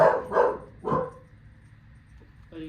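A dog barks three times in quick, loud succession, followed by quiet and a faint whimpering sound.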